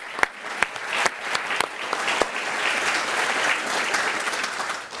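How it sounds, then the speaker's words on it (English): An audience at a climate panel applauds the team, starting with a few sharp scattered claps that swell into a steady, full round of applause lasting several seconds. "Let's give them a round of applause."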